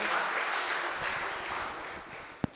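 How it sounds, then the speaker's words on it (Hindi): Audience clapping at a Christian prayer gathering, a steady, fairly quiet wash of many hands with one sharp, louder clap near the end. "Clap your hands."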